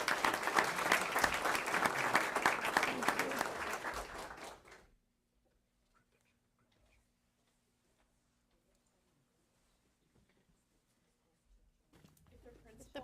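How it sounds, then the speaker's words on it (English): Applause at a school board meeting for students from a Spanish spelling bee: dense crowd clapping fills the room, fades out into near silence, then a faint burst of sound returns at the end. "And if we could give them another round of applause."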